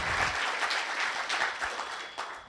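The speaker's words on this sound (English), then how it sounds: "let's give them a round of applause for the work that they have" A round of applause from an audience at a uMkhonto weSizwe (MK Party) gathering: a brief burst of steady, fairly loud clapping from many hands, easing off slightly toward the end.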